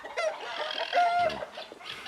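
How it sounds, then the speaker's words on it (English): Several chickens cluck and cackle in a snowy open chicken yard on a sunny day, a busy, close flock chorus with one drawn-out higher call partway through. "the chickens are out having a ball out in the sunshine."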